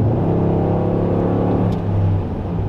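A Ram 1500 pickup with a 5.7 HEMI V8 accelerates hard from a rolling 60 mph, its engine roaring loud and steady throughout with a deep droning exhaust note and a slight rise in pitch.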